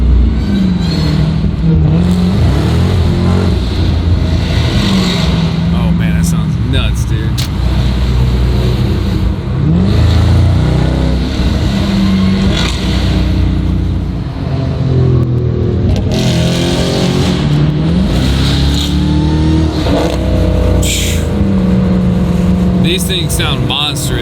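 A Dodge Durango Hellcat with a new loud aftermarket exhaust roars and revs continuously up close, its deep engine note rising and falling throughout, with voices heard over it.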